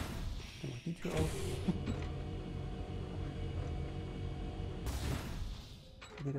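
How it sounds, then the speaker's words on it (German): A heavy door creaks and grinds open inside the Strelka N1 facility in the VR game Red Matter 2, a mechanical rumble with a second surge of noise near the end, no speech over it. "Dann mach die Tür auf."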